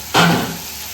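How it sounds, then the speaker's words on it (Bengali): A sudden loud sizzle bursts as turmeric powder hits hot spice paste frying in a pan, then the hiss settles into a softer, steady crackle. "এই যে হলুদের গুঁড়ো দিয়ে দিলাম, দিয়ে এবার মশলাটা বেশ খানিকক্ষণ ধরে আমি কষাবো।"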